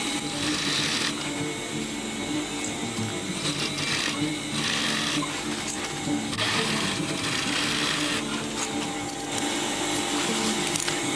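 A sewing machine runs a double stitch through fabric for a boxy bag, a steady close mechanical whir with brief shifts in pace as it runs continuously throughout.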